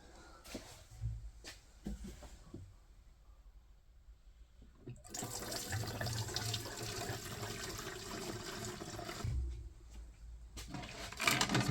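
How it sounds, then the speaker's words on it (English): Liquid gurgles as it drains down into a Triumph TR4 during shop work, a broad watery rush swelling midway and running steadily for several seconds between quieter handling clatter. "It's gurgling. Must be going down in."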